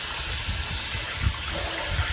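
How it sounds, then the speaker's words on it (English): Tap water runs steadily over gloves being rinsed in a sink, a continuous close splashing rush with small bumps where the gloves shift under the stream. "let me rinse my gloves off"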